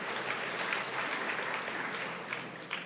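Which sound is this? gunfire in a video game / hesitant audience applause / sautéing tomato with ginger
hesitant audience applause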